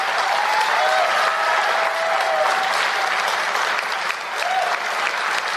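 A loud, steady burst of audience clapping fills the room at a political talk event, dense and continuous throughout with a few whistles rising above it and only a brief dip near the end.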